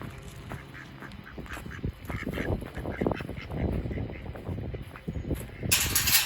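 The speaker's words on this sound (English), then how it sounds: "I just want to leave the ducks out" Ducks quack repeatedly around a backyard coop, several birds calling close by in uneven bursts over rustling and handling noise, with no talking.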